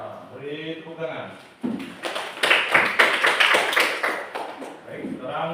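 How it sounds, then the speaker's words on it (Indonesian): After a short stretch of speech, a burst of clapping from a Grade 7 junior high classroom during a math lesson runs for about three seconds, close and fairly loud, then fades as a voice resumes. "Beri tepuk tangan."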